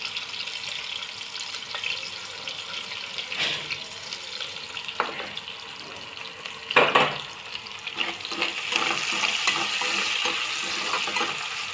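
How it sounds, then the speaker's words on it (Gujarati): Capsicum and French beans frying in hot oil for a Chinese-style recipe, a steady hiss and sizzle with scattered stirring scrapes and clinks, moderately close, with no talking. "તેલમાં હવે આપણે કેપ્સિકમ નાખીશું અને ફ્રેન્ચ બીન એડ કરીશું"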